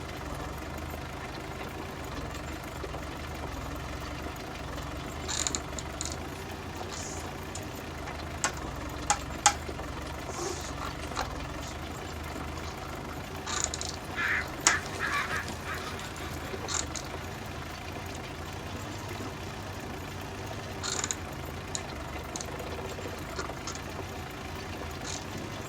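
County 754 four-wheel-drive tractor from 1966 running steadily while pulling harrows in spring cultivation, a continuous low engine drone with light knocking, fairly close and unchanging, no talk.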